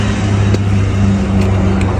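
A Squarebody Chevy truck fitted with BigStuff EFI cruises along on a test drive, its engine holding a steady, loud low drone from inside the cab with no talking.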